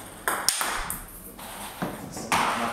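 Table tennis ball striking a Mizuno Fortius FT5 five-ply wooden blade, giving a few sharp, hard-sounding pings spaced apart, close and clear, with people talking around the hits.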